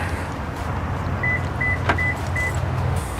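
A truck being unlocked outdoors, with a short series of four evenly spaced electronic beeps and a brief click, over steady background rumble.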